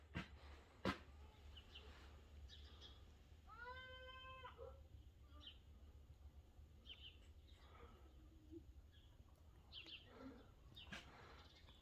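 A cat lets out one drawn-out, wavering meow in the middle of a cat standoff, faint against a quiet room with scattered small knocks and rustles.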